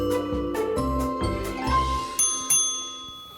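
A bright bell rings repeatedly as a jingling sound effect, several clear chimes in quick succession with ringing overtones that fade out, heard alone without talk.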